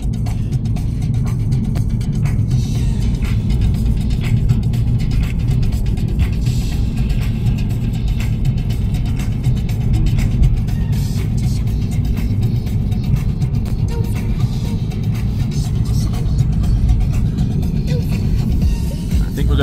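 A car drives along an Australian back road, its engine and tyre rumble steady and loud from inside the cabin, with little change in pace throughout.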